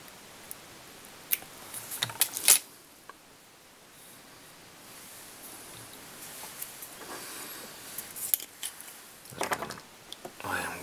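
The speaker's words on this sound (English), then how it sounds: "Trim off our loose ends here." Scissors trimming loose thread ends while tying an Ace of Spades fly: a few quick close snips and small clicks with soft rustling between, separated by quiet stretches.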